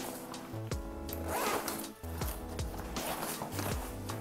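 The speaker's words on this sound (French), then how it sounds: "nous avons sur le côté deux fermetures éclair qui vont s'ouvrir d'une part et d'autre." Two side zippers on an Eastpak school backpack are pulled open one after the other, giving close, loud rasping strokes in quick bursts with no talking.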